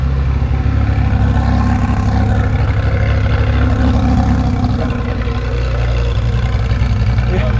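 A Ferrari F40's engine being revved during tuning, with a loud, close, deep engine roar that stays strong and steady throughout and eases slightly toward the end.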